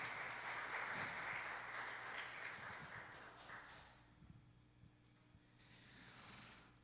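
Applause from a church congregation for the choir and praise team during a Sunday youth service, a dense crowd clapping that is loud for the first few seconds and then fades out, with a brief swell near the end.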